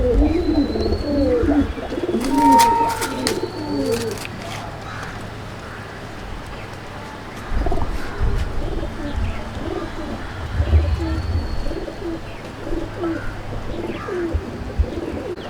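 Madrasi pigeons coo in a home pigeon loft, soft low throaty calls repeating over a steady background murmur, with occasional chirps and rustling close by.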